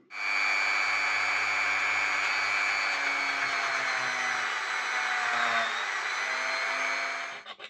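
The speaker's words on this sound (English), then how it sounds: "we'll grind that down with my rotary tool" A handheld rotary tool grinds down plastic in a model-railway repair, a loud, steady high-pitched whine running without a break for several seconds before it spins down at the end.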